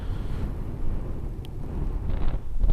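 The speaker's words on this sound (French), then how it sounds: "On sent qu'il y a du vent." Steady low wind rumble buffeting the microphone outdoors during a 125cc motorbike ride at the sandy Pointe de Kerpenhir, Brittany, continuous and fairly loud, with a few faint higher rustles near the end.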